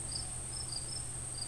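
A dense horde of crickets chirps steadily in a quiet, eerie setting, a continuous high trill with faint recurring pulses and no voices.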